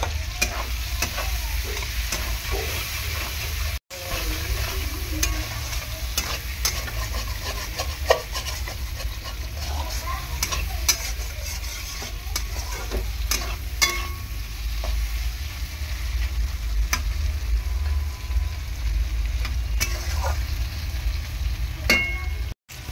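Prawns sauté in oil in a pan, being cooked down with salt, giving a continuous sizzle with frequent scraping and stirring strokes of a utensil, close and alone with no talk.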